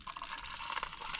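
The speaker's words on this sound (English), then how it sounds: "I'm going to shoot a little bit more water through it just to clean the alcohol out." Water rushes steadily through an epoxy resin pump being flushed clean of alcohol, a soft continuous gushing and splashing that stays faint and even throughout, with no voices.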